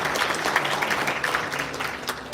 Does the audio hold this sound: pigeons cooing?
no